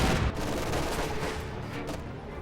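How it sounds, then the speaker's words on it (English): Rifle grenades firing in a war video game, a dense rumbling barrage of overlapping blasts and gunfire with a heavy burst at the start, loud and sustained with no talk. "Rifle grenades going out, inflicting a few losses."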